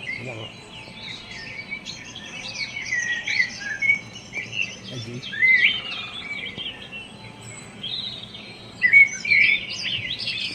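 Birdsong from a loudspeaker at an outdoor adventure park fills the air with bright, repeated chirps and tweets over faint background hiss. Occasional louder calls rise above the rest.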